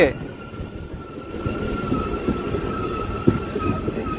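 A train pulls into Paramakudi railway station, a steady rumble of wheels and carriages with a faint high squeal and a sharp clank near the end, surrounded by platform ambience.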